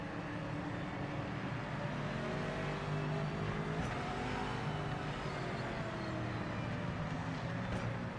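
GT3 race cars circling in Project Motor Racing, a steady blend of engine drone and tire noise that holds at an even loudness for the whole stretch, with no talk over it.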